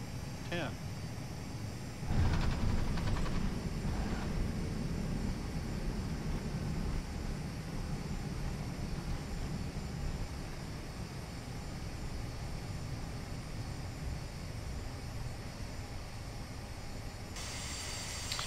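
An airliner landing at Madeira Airport in Flight Simulator X, a steady engine and airflow rumble with a thump of touchdown early on, a constant moderate roar throughout.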